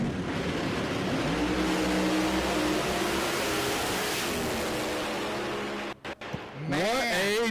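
A no-prep drag race car launching down the dragway at Kil-Kare, a loud sustained engine roar with a dense rumbling drone that cuts briefly before rising revs return near the end.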